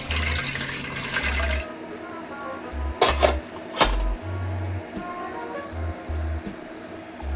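Water gushes into a steamer pot for a short, loud pour in the opening moments, followed by quieter clinks and knocks of the pot and utensils.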